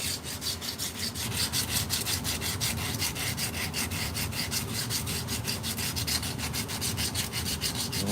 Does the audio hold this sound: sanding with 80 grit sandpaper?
yes